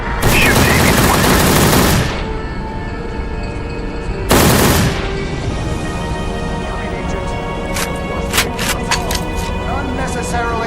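Gunfire in the PC game Secret Service: Ultimate Sacrifice, with two loud bursts of sustained automatic fire followed by a quieter stretch of several sharp, clipped shots over a steady background hum.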